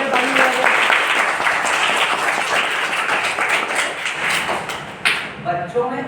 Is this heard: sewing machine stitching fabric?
no